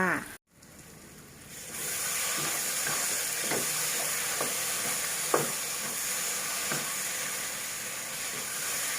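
Chili paste frying in oil in a pan for a spicy fish sour curry, a loud, steady sizzle and hiss with occasional scrapes and taps of stirring throughout.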